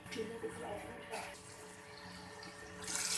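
Water pours steadily into a cooking pot of chicken haleem in a home kitchen, a continuous splashing rush that swells near the end, with someone talking quietly underneath.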